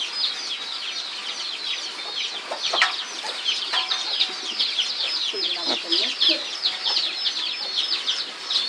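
Many chickens cluck and chatter continuously at close range, a busy, overlapping flock sound with occasional louder squawks.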